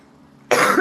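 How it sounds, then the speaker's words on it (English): A single sharp cough bursts out close and loud after a moment of quiet, then trails off. "I got a little cough from work."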